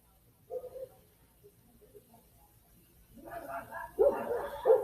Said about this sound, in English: Neighbors' dogs are all excited.